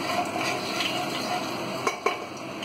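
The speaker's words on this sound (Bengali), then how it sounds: "প্রথমে চিনি অ্যাড করবেন গরম তেলে" Sugar in hot oil in a pan for Bengali mutton kosa, a quiet steady sizzle with two light metallic clicks of a spoon against the pan near the end, close and without talk.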